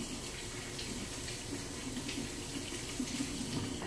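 A kitchen tap running steadily while a vegetable peeler is rinsed under it, a continuous close hiss and splash of water at low level with no talk.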